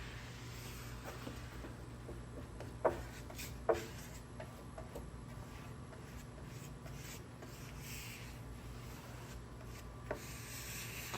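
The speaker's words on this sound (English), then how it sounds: "I just start putting some on my fingers and start rubbing it on the side and really massage it in the grain good" Gloved fingers rub Rubio Monocoat White 5% finish into white oak, making a soft continuous rubbing and brushing sound over a low background hum, broken by a couple of small knocks.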